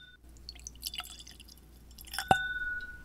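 Compass Box Artist Blend whisky poured from a nearly two-thirds-empty bottle into a glass, quiet trickling and dripping with a small clink, close and faint.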